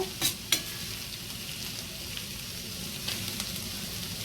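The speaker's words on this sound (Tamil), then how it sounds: "வெங்காயம் கொஞ்ச நேரம் வதங்கட்டும்." Onions sautéing in a pan as the base of a spicy Sri Lankan-style shrimp gravy, giving a continuous close sizzle with a few sharp stirring clinks near the start and softer scrapes later, without any talking.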